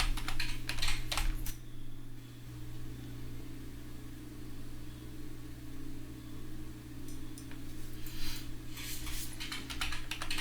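Typing on a computer keyboard while building in Unreal Engine 4: two bursts of quick, clicky keystrokes, at the start and toward the end, with a steady low hum throughout and no talking.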